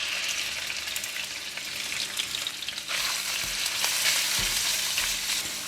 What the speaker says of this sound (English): I'm going to switch on the heat and put in the meat